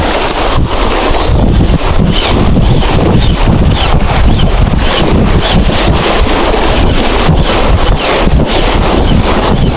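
Strong wind roars and buffets the microphone nonstop while fishing by the sea, loud and close, with a churning sea-like wash underneath and no voices.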